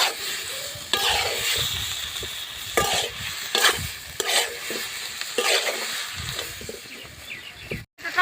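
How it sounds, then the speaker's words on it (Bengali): Spices with turmeric and salt are sautéed in a pan, a steady sizzle broken by repeated scraping stirs and spoon knocks, close and fairly loud, with no talk. "হলুদ, ভালো করে আমি সবগুলাই কষিয়ে নেব।"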